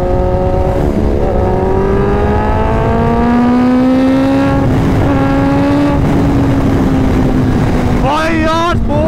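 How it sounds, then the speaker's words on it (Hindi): A Kawasaki ZX-10R sport motorcycle at full throttle in race mode, its engine whine climbing loudly and steadily through the revs with a gear change near the end, close and continuous, with some talking over it. "भाई यार स्पोर्ट्स मोड में बाइक बहुत ज्यादा रॉकेट है।"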